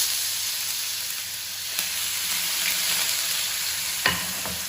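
Pointed gourd seeds, green chilli and turmeric fry in hot oil with a bright, steady sizzle, broken by a few sharp clinks and scrapes of stirring.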